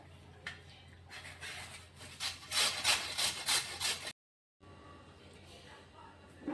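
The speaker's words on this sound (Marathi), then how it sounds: "मी आता किसून घेते गाजर" Carrots are grated by hand for gajar halwa, giving rhythmic rasping strokes that build in intensity, break off briefly, then continue more softly.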